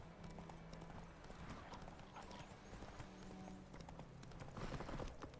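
Roach, the horse in The Witcher 3, trots with a steady clip-clop of hooves and lets out a whinny, with game ambience behind.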